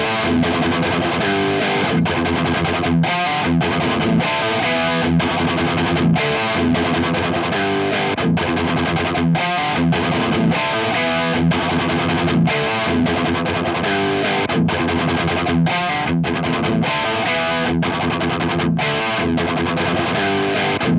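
A heavily distorted electric guitar plays a chunky, repeating thrash metal riff through overdrive pedals, loud and continuous, with a thick, saturated overdrive tone throughout.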